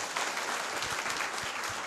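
Steady audience applause greets newcomers at a business meeting, a soft, even patter of many hands clapping throughout, heard somewhat distantly.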